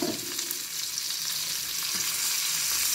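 Trout sizzles steadily in butter in a hot pan, a constant crackling fry with a soft clink or stir now and then.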